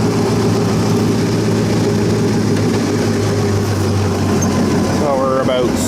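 A tractor engine idles steadily at about 600 RPM on hand throttle, giving a loud, constant low throb that runs through the whole stretch, with some brief other noise near the end.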